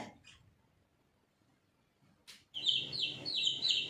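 Small birds chirp in quick, high twittering bursts after a quiet stretch, fairly close and continuous toward the end.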